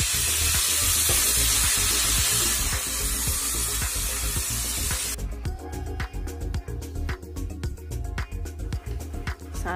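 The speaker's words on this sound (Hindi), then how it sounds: "सारा चावल डाल करके इसको फ्राई कर लेंगे।" Washed rice tipped into a hot pan, a loud hiss of frying that drops after about five seconds into gentler sizzling broken by scraping and stirring clicks.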